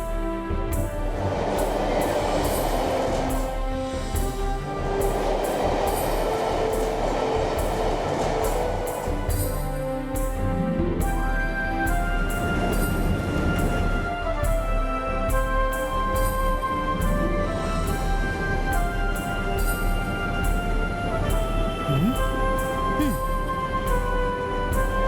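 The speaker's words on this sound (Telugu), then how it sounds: "వావ్, మెట్రో ట్రైన్ చాలా బాగుంది కదా" A metro train runs steadily through a magical city in an animated adventure series. It gives a continuous rumbling, rushing ride noise, with voices talking over it throughout.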